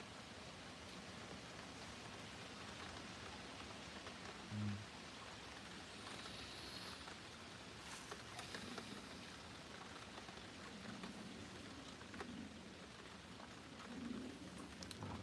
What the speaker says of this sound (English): It's currently raining here at the moment.